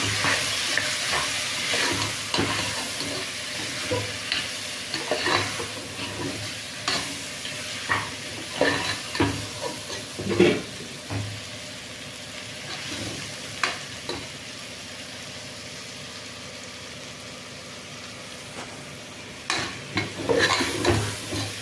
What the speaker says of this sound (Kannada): ಸೊ ಇಷ್ಟನ್ನು ಹಾಕಿ ಚೆನ್ನಾಗಿ ಮಿಕ್ಸ್ ಮಾಡಿರ್ತೀನಿ